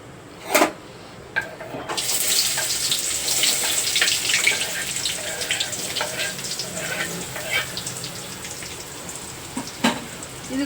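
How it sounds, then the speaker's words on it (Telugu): Chopped onion and green chili frying lightly in oil, a steady soft sizzle with sharp clicks and clatter of a utensil against the pan at the start and scattered later. "ఇది కూడా మనం లైట్గా ఈ ఉల్లిపాయ, పచ్చిమిరపకాయ కూడా వేయించేసుకోవాలి ఈ ఆయిల్లోనే."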